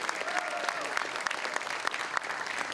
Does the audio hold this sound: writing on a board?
no